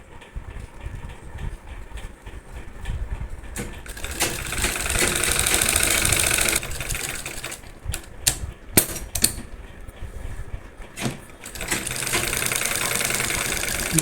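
A sewing machine stitching a saree, rattling in fast, steady bursts that start and stop, with short pauses and a few sharp clicks between runs, close and fairly loud.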